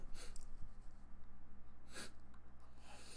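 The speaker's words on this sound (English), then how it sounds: "I had to sneeze." A single sharp sneeze burst near the start, followed by another breathy burst, then quiet sniffling breaths.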